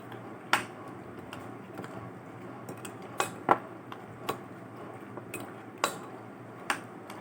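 A spoon stirs fruit chaat salad mixed with yogurt in a bowl, giving scattered sharp clinks and taps against the bowl at an irregular pace, fairly close and quiet over a soft background hiss.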